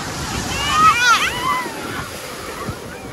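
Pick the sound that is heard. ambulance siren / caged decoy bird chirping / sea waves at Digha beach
sea waves at Digha beach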